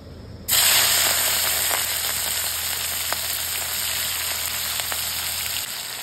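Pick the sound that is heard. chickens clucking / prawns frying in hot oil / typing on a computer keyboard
prawns frying in hot oil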